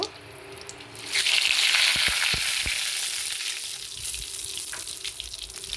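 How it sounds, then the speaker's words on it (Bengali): Whole spices for khichuri tempered in hot oil in a pan on a gas stove, a loud sudden sizzle that flares up, then slowly settles, with a few sharp clinks of a utensil against the pan. "এই গ্যাসে মশলাটা ফোড়ন দিয়ে দেব।"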